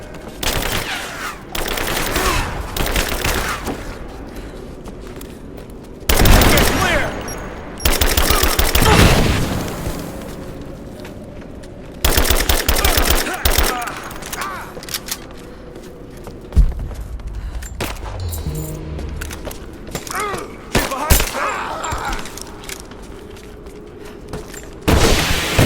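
Gunfight in the video game Rise of the Tomb Raider: loud bursts of automatic fire and heavy booms come in irregular waves, separated by quieter stretches.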